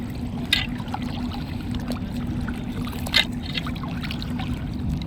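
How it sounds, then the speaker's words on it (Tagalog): Moving river water, shallow and flowing downstream, makes a steady close trickle and burble throughout, with brief splashes standing out now and then. "Okay na yung ganyan tubig, galaw ng tubig eh."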